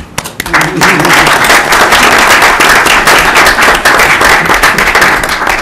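Loud, sustained applause from an audience at a school committee meeting, honoring students, families and teachers; dense clapping fills the whole stretch after a brief start.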